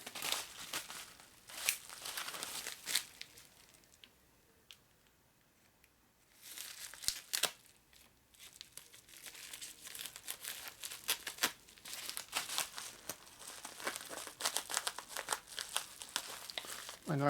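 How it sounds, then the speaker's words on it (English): A knife slicing open the packaging of a small eBay parcel, heard as close crinkling, tearing and crunching of cardboard and plastic in irregular bursts with a brief quiet pause midway. "My knife was cutting it."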